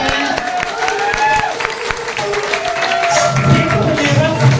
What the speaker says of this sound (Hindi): मैं आमंत्रित करना चाहूंगा फौजी सर को, और जोरदार तालियां के साथ